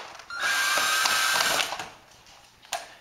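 A power drill or driver whirs for about a second and a half while backing screws out of a retractable frame's end cap, followed by a few light clicks and a short sharp knock, with no talk.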